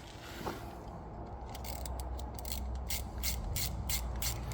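A bolt being wound in by ratchet on the rear axle hub of an Iveco 75E15 horsebox, a run of rapid metallic clicks growing steadier, quiet and close against faint background hum.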